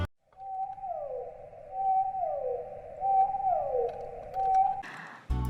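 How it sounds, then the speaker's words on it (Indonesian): Blue whale vocalization: long, deep, tonal moans repeating in a slow rhythm, each call sliding downward in pitch, steady and fairly loud against a low ocean rumble, ending with a brief noisy burst. "Suara paus biru seperti ini nih."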